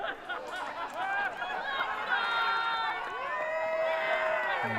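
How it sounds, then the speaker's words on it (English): A crowd at a pro pickleball championship court in Brisbane rises in cheers and whoops, swelling excited shouting and chatter that builds and holds loud throughout. "you can hear them getting on their feet, cheering their sides on"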